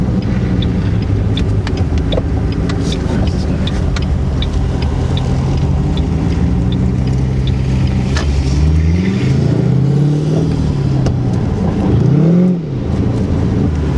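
A stock 3-valve Ford Mustang engine idles with a deep rumble, then revs loudly several times, the pitch climbing and falling with each throttle blip near the end.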